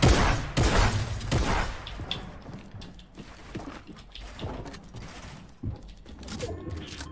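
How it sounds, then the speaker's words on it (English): Fortnite gunfire cracks out in a cluster of loud, sharp shots at the start, followed by scattered single reports and impacts of varying loudness through the rest of the match. "Why are you shooting from so deep?"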